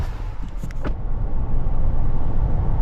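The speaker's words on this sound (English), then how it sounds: "It drives pretty damn good for just having the lift kit put in." Lifted 2022 Duramax diesel pickup with a fresh Rough Country lift kit cruising on a highway, giving a steady, close engine and road rumble with a brief rattle near the start and no talk.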